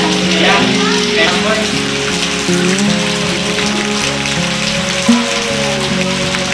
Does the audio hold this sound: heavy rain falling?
yes